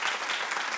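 Studio audience applause from a TV talk-show crowd, a steady dense wash of clapping with no break, fairly faint and heard alone without talk.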